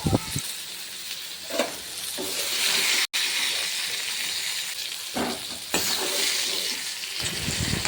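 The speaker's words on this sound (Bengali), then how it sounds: "প্রথমে পটলগুলো ভেজে তুলে নিচ্ছি" Pointed gourd (potol) slices fry in hot oil in a pan, giving a steady, fairly loud sizzle with bursts of crackle and a short break partway through.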